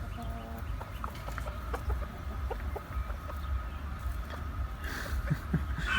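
Village hens and a rooster named Hayati cluck softly and intermittently over a steady background hum, with a few sharper calls near the end.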